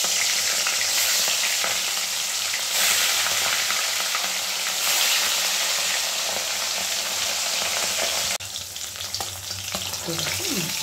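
Fish pieces rubbed with salt and turmeric fry in hot oil with a loud, continuous, close sizzle. It eases slightly near the end, with faint stirring underneath and no talk.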